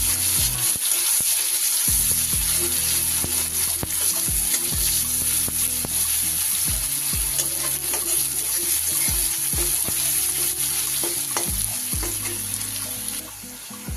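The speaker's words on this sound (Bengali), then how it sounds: "পেঁয়াজটা আমি একটু ভালো করে ভেজে নেব" Chopped onion fries in hot oil for a Bengali fish curry, giving a loud, steady sizzle throughout with repeated scraping stirs, and no talking.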